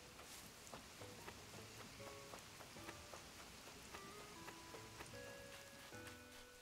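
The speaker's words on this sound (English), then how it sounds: "don't y'all just love how different everything looks when it's raining?" Rain falls steadily in the video game Animal Crossing New Horizons, a constant soft hiss of drops under light, scattered melodic game tones, with no talking.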